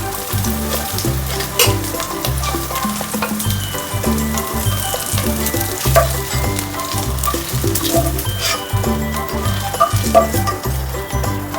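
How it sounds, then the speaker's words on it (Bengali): Potato pieces fry in oil for chicken pulao with a loud, continuous sizzle and crackle over a rhythmic, pulsing low background that continues throughout. "আলুগুলো একটু লাল লাল করে ভাজা হয়ে গেছে"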